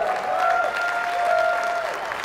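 An audience applauds a DJ at a CHAUVET DJ presentation: steady crowd clapping with a sustained whistle-like tone running over it for about two seconds.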